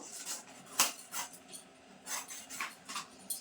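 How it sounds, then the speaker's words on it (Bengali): A knife slicing through a rohu fish belly piece, heard as a series of close, faint scraping cuts and clicks in a quiet room. "এবার পেটির মাছটা কেটে নেব"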